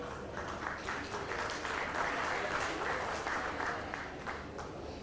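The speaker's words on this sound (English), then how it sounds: "So I would thank you for a big round of applause for Amir Rapoport" Conference audience applause for Amir Rapoport at a cyber event, a steady wash of many hands clapping at a moderate distance, sustained for about five seconds with faint murmur beneath.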